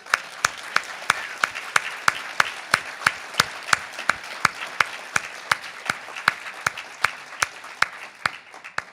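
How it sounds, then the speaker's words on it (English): Conference audience applause for an executive director, with one close, loud, evenly spaced clap repeating about twice a second over a softer wash of many hands clapping in the room. "would you, if you would stand up for a round of applause"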